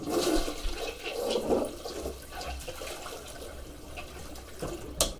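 A freshly cleaned toilet flushes nearby with a gushing rush of water that fades into a softer trickle as the tank refills, with no voices.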